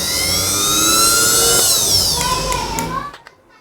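A small electric juicer blender motor, an old unit repaired and oiled, runs alone as a test: a loud, steady high-pitched whine that falls slightly in pitch, then cuts off sharply near the end as the motor spins down.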